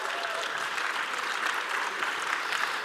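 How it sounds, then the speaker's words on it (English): A conference audience gives the speaker a round of applause, a continuous dense wash of many hands clapping in a large hall. "please give me a round of applause"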